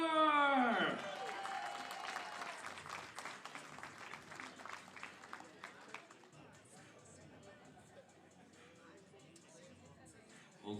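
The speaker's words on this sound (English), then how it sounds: "Give them another round of applause." Audience at the 2023 Arnold Sports Festival Pro-Am bodybuilding competition breaks into loud applause and cheering that gradually fades to scattered clapping, with an announcer's voice on the PA.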